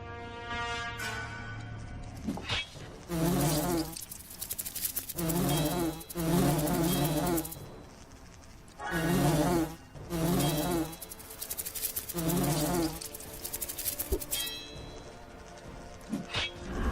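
A green wasp in the fantasy role-playing game Lords of Xulima gives several loud, droning buzz bursts in a steady rhythm over a continuous game soundscape, with no one talking.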